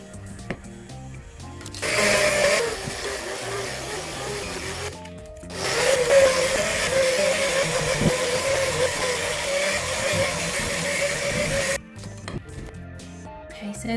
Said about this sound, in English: And then I'll bring in the blender.